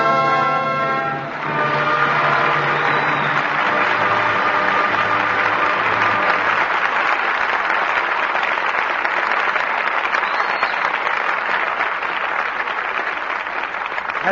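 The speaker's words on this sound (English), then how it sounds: "your applause for tonight's performance calls our stars back to the footlights" Studio audience applause after a radio drama performance, a broad, steady wash of clapping that continues for the whole stretch while orchestral music plays over its opening seconds and then fades.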